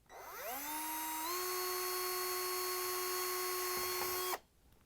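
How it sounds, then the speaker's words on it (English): A power drill with a 1/16 inch bit drills through metal on a refrigerator water line holder, spinning up with a rising whine, then holding a steady high-pitched drone for about four seconds before stopping abruptly. "we can grab the drill with a small 1/16 inch drill bit so we can drill a hole"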